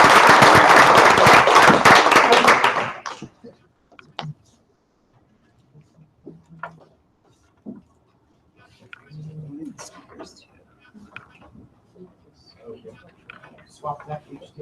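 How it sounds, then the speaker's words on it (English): An audience at a presentation event claps in a dense burst of applause for about three seconds, which then dies away into near silence with scattered faint voices and small noises. "One round of applause, please."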